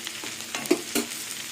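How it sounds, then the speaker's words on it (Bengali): Potatoes and ivy gourd fry in a pan with a soft, even sizzle, punctuated by a few stirring scrapes of a spatula, with no voices. "আর কিছুক্ষণ ভাজলে আলু আর কুন্দুরি ভাজা হয়ে যাবে"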